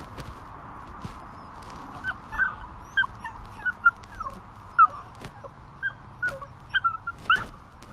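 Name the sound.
puppy whimpering while faking a broken leg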